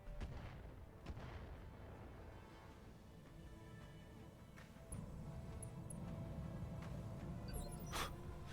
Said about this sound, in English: Guy blew himself up with an ammo explosion there.